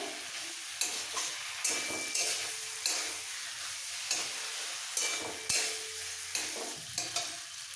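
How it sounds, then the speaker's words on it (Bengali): Green beans and potatoes sautéing with spices in a pan for a vegetarian bean curry, a steady sizzle broken by regular scraping stir strokes roughly every second, close and alone. "এবার একসাথে মশলার সাথে শিম আর আলুটা একটু কষিয়ে নেবো"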